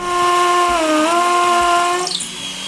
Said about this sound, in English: now we can drill through into the brick